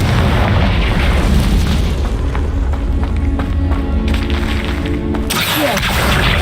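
A Confringo blasting curse goes off in Hogwarts Legacy, a loud, dense booming burst with crackling debris that sustains for several seconds before a sharp cut.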